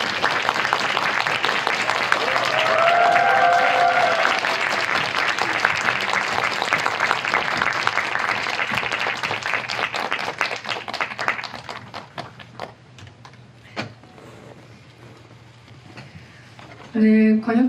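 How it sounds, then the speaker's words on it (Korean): Prolonged audience applause at a film screening Q&A as guests make a long walk to the stage, loud and dense at first with a voice over it, then thinning to scattered claps before a few final sharp sounds. "박수를 조금 길게 해줍니다"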